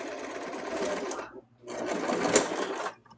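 A sewing machine stitches a plush prototype in two steady whirring bursts separated by a brief stop, close and fairly loud, with no talking over it.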